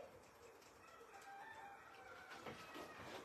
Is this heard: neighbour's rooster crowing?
yes